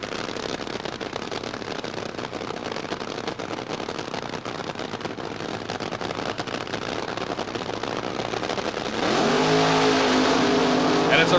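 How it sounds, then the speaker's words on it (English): A 1976 NHRA funny car with a Chevrolet Monza replica body makes a drag run. A sustained, crackling engine roar is heard from a distance and swells louder and nearer toward the end. "Prudhomme's car, a replica of a 76 Monza"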